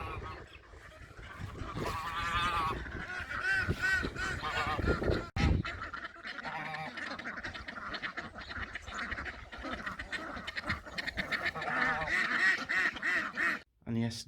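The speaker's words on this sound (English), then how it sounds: "letting out the ducks and the geese, that's what the noise is" Geese honk and ducks quack loudly and continuously as they are let out onto a pond, a busy chorus of close waterfowl calls with a brief pause near the end.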